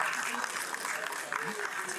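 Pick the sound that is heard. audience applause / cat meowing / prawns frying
audience applause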